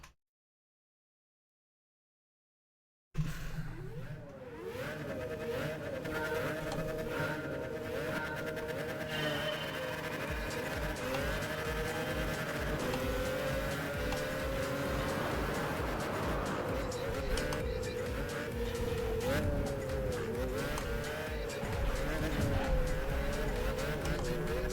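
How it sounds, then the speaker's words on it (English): Many race car engines roaring together on track in Gran Turismo 5, a loud, dense whine of revving motors shifting pitch up and down, continuous after a brief silent start. "I cannot hear my own freaking engine because of all the other cars"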